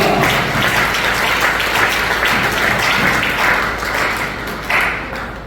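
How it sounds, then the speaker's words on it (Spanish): A church congregation applauds in praise, a steady wash of many hands clapping that holds at a loud, even level for several seconds with no talk over it. "Un aplauso al Señor."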